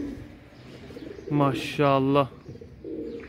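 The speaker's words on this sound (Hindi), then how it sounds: "ये है वो कबूतर जो कि अभी आके बैठा" A pigeon that has just landed nearby coos twice in quick succession, the throaty calls close and clear, with a voice speaking briefly around them.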